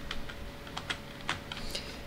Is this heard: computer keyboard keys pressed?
yes